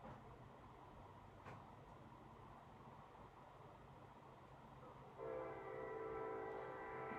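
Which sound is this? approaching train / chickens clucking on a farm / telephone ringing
approaching train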